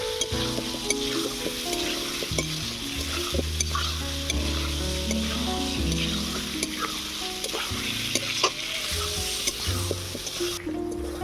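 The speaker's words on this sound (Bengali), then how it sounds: "আলু আর মটরশুঁটিটাকে 1 মিনিট কষিয়ে নেব" Potatoes and peas sautéing in a pan, a steady close sizzle with frequent scraping and stirring clicks from a utensil running throughout.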